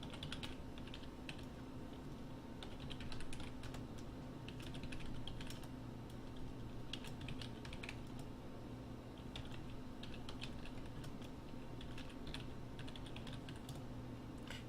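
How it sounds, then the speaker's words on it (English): Rapid, steady typing on a computer keyboard, quiet and close, with irregular bursts of clicking keys continuing throughout over a faint background hum. "Let's get things all typed in."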